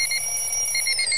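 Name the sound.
alarm clock ringing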